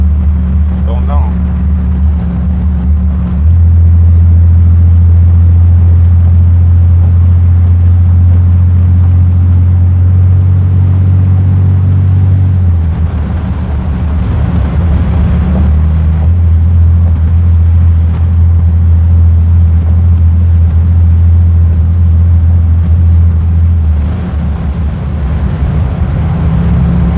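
A car is driven, with a loud, steady low engine drone that changes pitch a few times as the car speeds up and eases off, plus a wash of wind and road noise.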